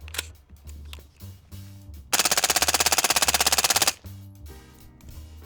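Rapid burst of suppressed fire from a 10.5-inch barrel at a shooting range, a dense run of evenly spaced loud shots lasting under two seconds, with quieter single shots and range noise around it.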